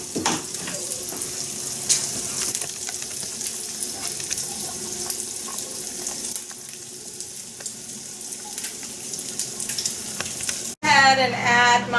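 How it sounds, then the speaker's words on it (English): Smoked sausage frying in a pan with a steady, close sizzle that runs throughout, ending in a brief louder burst near the finish. "My sausage is getting browned off here."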